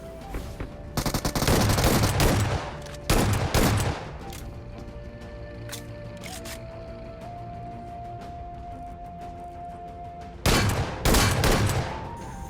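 Shotgun gunfire in a video game, several loud bursts of rapid shots in clusters separated by quieter gaps, with background game sounds between them.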